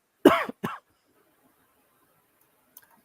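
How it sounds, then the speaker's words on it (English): A man coughs twice in quick succession, a loud harsh burst followed by a shorter one, up close in a quiet room, then near silence with a faint click. "just had a bit of a cough"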